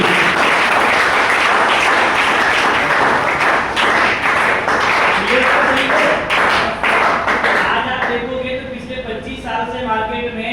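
An indoor workshop audience bursting into loud sustained applause, dense overlapping claps that thin out toward the end as voices and murmurs rise.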